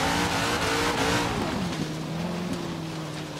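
A 2017 Camaro ZL1 in Forza Horizon 3 roars at high revs, its engine pitch climbing and then dropping sharply at a manual gear shift before settling into a steady loud drone, with no talk.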